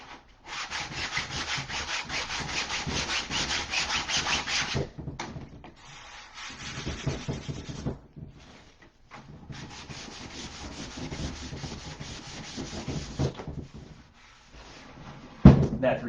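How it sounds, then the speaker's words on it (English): Plastic being hand-sanded with 320 grit sandpaper: long runs of brisk, raspy back-and-forth scrubbing strokes, broken by short pauses and a sharp knock near the end, recorded close up. "I would be sanding for hours."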